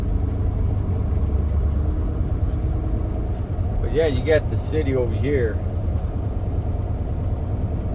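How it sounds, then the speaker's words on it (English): Idling engine rumble from inside a truck stuck in a highway traffic jam, a steady low drone throughout with someone talking briefly over it. "so here we are now in a traffic jam here"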